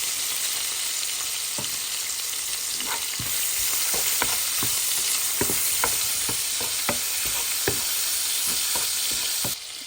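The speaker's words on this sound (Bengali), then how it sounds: "আমি এখানে দিয়ে দিব কিছু চিংড়ি মাছ, একটু ভেজে নেব।" Shrimp coated with a little turmeric and salt frying in a pan, with a steady close sizzle throughout and repeated short scraping stir strokes from a spatula, no voices.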